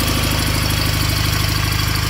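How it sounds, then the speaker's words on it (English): A 1987 John Deere 318 lawn tractor engine idles smoothly and steadily, a close, even, low thumping pulse that holds a constant rhythm throughout with no talking. "Idle's down good. Idle's pretty smooth."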